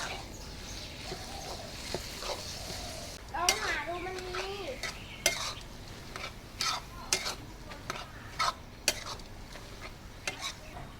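Minced chicken bones are stirred in a pan, with soft sizzling beneath repeated sharp scrapes and clinks of a utensil against the metal, and a person talks briefly partway through.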